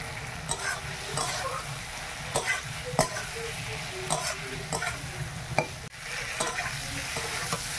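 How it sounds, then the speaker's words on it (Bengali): Potato and cauliflower pieces stir-fried in spices in a pan, a steady sizzle broken by repeated scraping and clattering strokes of a spatula at an irregular rhythm. "মশলাটা খুব ভালোভাবে ভাজা হয়ে গেছে, আলু আর কপিটা দিয়ে একটু কষিয়ে নেব।"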